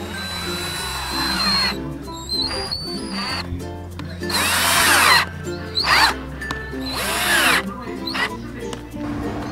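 A power drill driving screws into an electric skateboard deck, several close, whining bursts of a few seconds each, separated by short pauses and clicks, with a handled, workshop feel.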